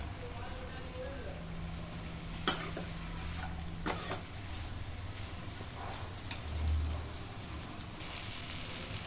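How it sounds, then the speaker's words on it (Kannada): Spices stir and fry in a pan over a medium flame, a soft, continuous sizzle with occasional scraping clinks of the spoon, heard under speech for much of the time. "ಮೀಡಿಯಮ್ ಫ್ಲೇಮಲ್ಲೇ ಇಟ್ಕೊಂಡು ಎಲ್ಲನೂ ಹುರ್ಕೋಬೇಕು"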